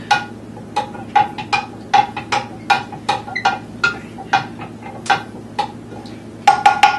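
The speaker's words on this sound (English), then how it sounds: "I'm going to give that a stir really quick" Metal spoon stirring hot tea in a pot while brewing kombucha, giving a steady series of bright clinks and taps against the pot's sides, close and clear, with no talking.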